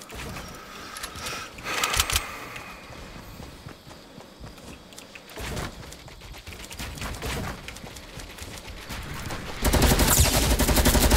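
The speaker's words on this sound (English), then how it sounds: "Oh, he's got a fucking LMG. Shoot him." Bursts of gunfire in the video game Fortnite, where a player uses an LMG light machine gun, arrive as uneven clusters of loud shots with a dense sustained burst at the end, and no talk.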